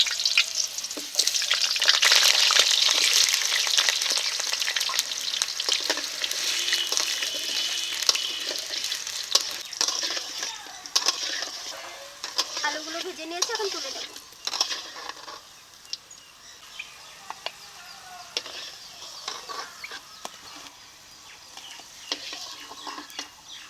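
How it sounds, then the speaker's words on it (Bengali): Loud bright sizzle of potatoes frying in mustard oil in a wok, strongest early then settling to a softer crackle with occasional scrapes and clicks, no voices. "এই তেলে এখন আলুগুলো ভেজে নেবো"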